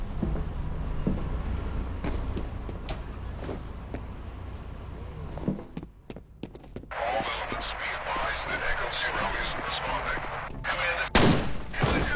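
Pistol gunfire in a first-person video game, heard as sharp repeated shots scattered across the stretch, with a louder cluster near the end over steady game ambience and a busy noisy patch.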